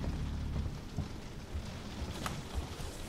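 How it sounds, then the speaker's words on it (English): Steady rain hisses loudly throughout inside a ship in the video game Alien: Isolation, with low rumbling underneath and a brief bright splash near the end. "Sounds like it's raining."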